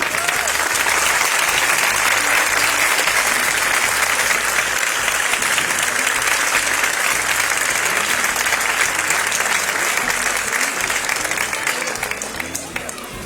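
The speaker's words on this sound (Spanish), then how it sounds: "Un aplauso, por favor" A crowd at a literary gathering on La Palma gives sustained, even applause in honor of Mario Vargas Llosa. The clapping stays loud and steady throughout and tapers slightly at the very end.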